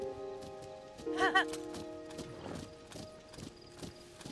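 Steady horse hooves clip-clopping at a trot in a video game, with a brief horse whinny early on over faint background tones.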